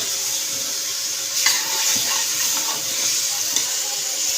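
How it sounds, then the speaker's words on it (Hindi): Chicken frying in a pan with garlic and ginger, a steady close sizzle and hiss with occasional stirring scrapes throughout, no voices. "मैंने लहसुन अदरक डाल के यहाँ पे चिकन को अच्छी तरह भून लिया है"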